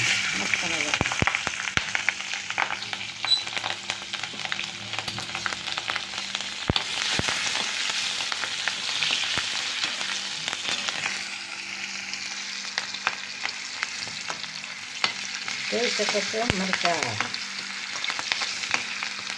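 Chilies with turmeric frying in hot oil, a dense crackling sizzle close by throughout, with frequent sharp pops and stirring scrapes and a brief faint voice near the end.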